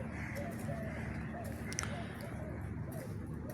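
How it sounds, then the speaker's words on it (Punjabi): Doves coo softly in the background of an outdoor morning walk, a repeated low hooting phrase heard several times over steady ambient noise, with faint other bird calls. "ਇਹ ਤੁਹਾਨੂੰ ਘੁੱਗੀਆਂ ਦੀ ਆਵਾਜ਼ ਵੀ ਆ ਰਹੀ ਹੋਣੀ"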